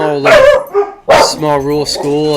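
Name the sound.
dogs barking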